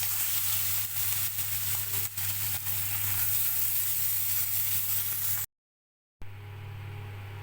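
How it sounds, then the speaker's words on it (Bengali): Pieces of fish frying in hot oil, a steady loud sizzle that holds for several seconds, cuts to silence, then resumes more quietly. "আবারও মাছ দিয়ে দিচ্ছি, এইভাবে সব মাছগুলো ভেজে নেব।"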